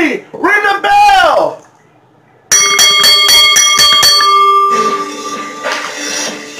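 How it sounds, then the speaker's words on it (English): A wrestling ring bell clangs in a rapid series of loud metallic strikes after a pinfall at an ECW event, following a shouting announcer and ringing out over arena noise. "Ring the bell!"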